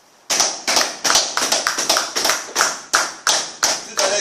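A church congregation claps in a steady rhythm, about a dozen loud, sharp, evenly spaced beats ringing in the hall, with no voices over them.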